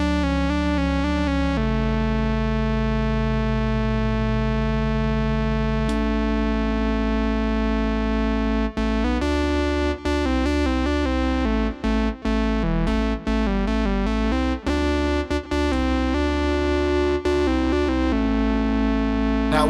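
A sustained analog synth tone from a 1979 Minimoog with wavering vibrato, then choppy, gated bursts with abrupt dropouts, loud and continuous with no voices.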